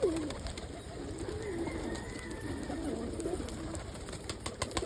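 Birmingham roller and Indian fantail pigeons coo softly in a garden loft while feeding on plucked weeds and dandelion greens, with low rolling calls rising now and then over light background rustle.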